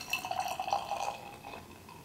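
A Spindletap Stratospheric Clouds double IPA poured into a glass makes a soft, steady liquid trickle and splash, fairly quiet and close, with no talking.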